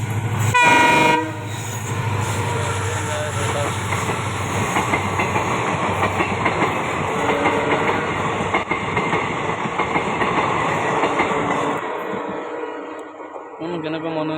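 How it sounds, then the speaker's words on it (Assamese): A train sounds a loud horn blast at the start, then rolls past close by at night with a heavy, sustained rumble and rhythmic wheel clatter that fades away toward the end, a voice speaking over it. "ইয়াত ট্ৰেইন আহি আছে চাওক"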